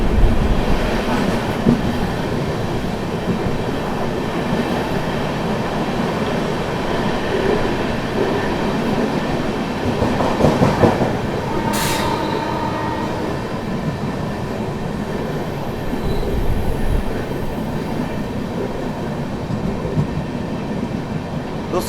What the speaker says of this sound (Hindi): गोविंदपुरी पे क्या ही तो गजब की रफ्तार में ट्रेन निकली थी भाई